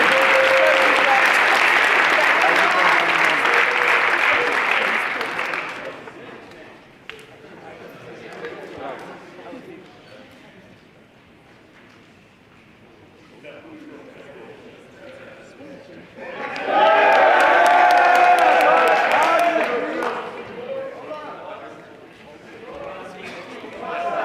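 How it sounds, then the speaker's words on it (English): At a varsity and JV football season banquet, the audience breaks into loud applause for the coaches, which dies down to murmuring and talk before a second strong burst of clapping. "one more huge round of applause for the coaches"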